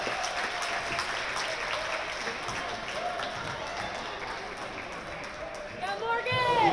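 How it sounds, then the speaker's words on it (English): A gymnasium crowd applauds steadily at a high school girls basketball senior recognition night, Peters Township against Mt. Lebanon, dense clapping and cheering holding throughout with a brief whistle-like squeal and a swell of cheers near the end. "one more round of applause for Morgan, Isabella, and McKenna."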